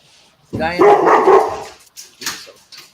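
A dog barks in a short burst of loud, close yaps, then a few softer yelps follow as people talk nearby.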